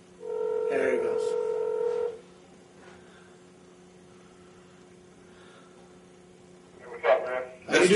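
A telephone is dialed with a quick burst of touch-tone beeps, followed by a steady low tone through a quiet stretch while the call connects, and voices come in near the end.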